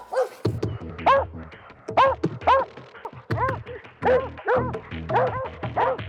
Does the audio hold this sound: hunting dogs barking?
yes